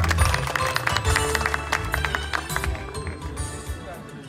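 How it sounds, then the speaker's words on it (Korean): Crowd applause welcomes a speaker to the podium at the Korea National Open University's third Cheonsa walking event, a dense patter of clapping that stays steady and fairly loud over outdoor murmur and voices. "뜨거운 박수로 맞아주시기 바랍니다."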